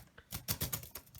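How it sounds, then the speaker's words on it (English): Keys on a Palm portable keyboard clack in a short burst of about six quick, close taps, crisp and fairly loud with brief pauses between strokes. "pretend you're using a keyboard on your computer."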